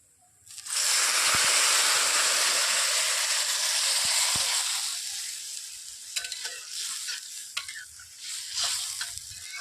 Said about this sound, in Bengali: এবার এতে আমি নারকেলের দুধটা দিয়ে দেবো।